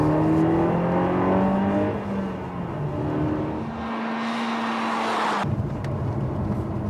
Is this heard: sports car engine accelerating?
yes